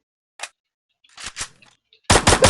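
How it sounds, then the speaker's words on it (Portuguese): Gunfire in a shooter video game: a single brief shot, a pair of sharper bursts, then a loud sustained volley of rapid shots close up at the end, with no talking over it. "Dei muito tiro nele"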